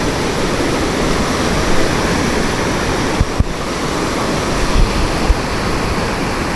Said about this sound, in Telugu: అలలు కనిపిస్తున్నాయా? లైట్గా కనిపించచ్చు మేబీ. సౌండ్ వినపడుతుంది, లైట్గా కనిపిస్తుంది అలలు.